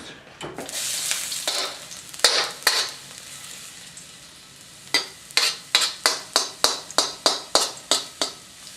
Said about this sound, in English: And now we're going to throw in this garlic that we just sliced.